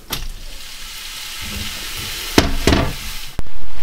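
Steak laid into a hot frying pan for steak and kidney pie, a steady hiss of sizzling that swells into a loud, sustained sear, with a couple of sharp clatters from the pan.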